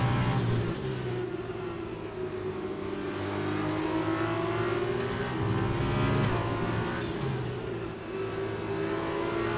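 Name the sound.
Formula 2 race car engine in the video game F1 2020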